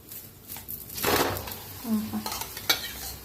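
Aloo paratha flipped on a hot oiled tawa, with a few scraping turns and soft sizzling, moderately close and quiet.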